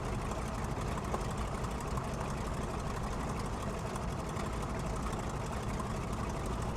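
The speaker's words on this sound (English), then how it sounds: "get a little bit more engine sound going here" Idling piston engines of a B-25 Mitchell bomber in Microsoft Flight Simulator 2024, a steady, dense low rumble with constant loudness and no talk throughout.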